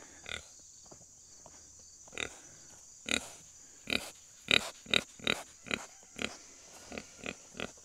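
A pig on a homestead pig farm grunts in a farrowing pen, giving a series of short, spaced grunts that come quicker in the middle, faint and close over a steady background hiss.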